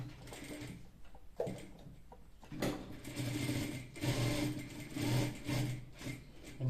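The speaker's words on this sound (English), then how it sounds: "trying to sew our placket" A sewing machine stitches a shirt placket, starting with brief bursts and then running in a steady, moderately loud whir with a slight mechanical rhythm, with no talking.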